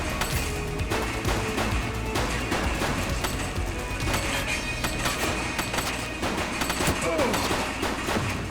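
Rapid bursts of gunfire in a crime simulation police game, dense volleys and single shots crackling continuously over a busy game soundtrack with occasional glassy clinks, loud and close throughout.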